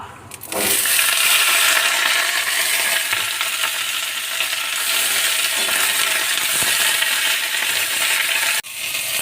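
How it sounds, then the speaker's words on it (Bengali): Pumpkin greens dropped into hot oil, a loud, steady, close sizzle and hiss that surges in at once and holds with little change. "তেল দিয়েছি, এবার কুমড়ো শাকগুলো দিয়ে দেব।"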